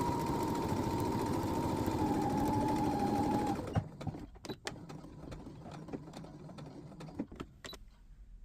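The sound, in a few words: sewing machine top stitching zip fly edge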